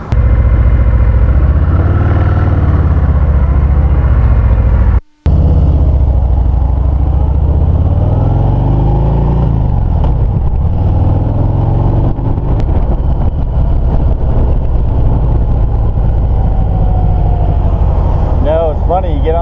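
A 2018 Harley-Davidson Heritage Classic motorcycle rides out on the road, its engine droning loud and steady with a rising rev and a brief cut near the start, a rider's voice talking over it.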